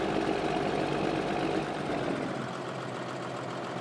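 A tractor engine idles in the farming video game Farming Simulator 2013 as a steady, dense drone that drops slightly in level partway through, with no talking.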